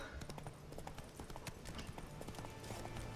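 Horse hooves clip-clopping at a steady trot in the video game The Witcher 3, close and continuous, with faint game ambience underneath.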